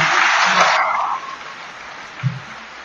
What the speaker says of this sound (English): please give him a big round of applause and welcome him